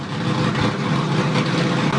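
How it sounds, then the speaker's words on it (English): A Top Methanol drag racing car idles and rumbles near the start line after its burnout, a steady, loud, low engine drone with no voices. "just bringing the car up to the start line now"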